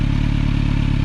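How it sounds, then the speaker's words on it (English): A 2022 Kawasaki Z900 with a KO Lightning slip-on exhaust runs steadily nearby, a loud, continuous low engine drone with a rapid pulsing rhythm. "KO Lightning exhaust,"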